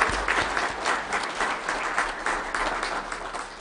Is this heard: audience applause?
yes